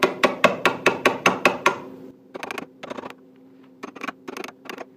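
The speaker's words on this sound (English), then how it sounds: "you can scrape off the top of those guys by putting the bevel side down and tapping" A wood chisel, bevel side down, is tapped along a dado joint in wood: a quick run of about eight sharp, evenly spaced knocks, then lighter, scattered clusters of taps, close and clear with no talk.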